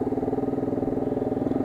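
Close, steady motorcycle engine idling with a fast regular pulsing thump during a Republic Day flag march ride in foggy Chandigarh, heard alone without talk.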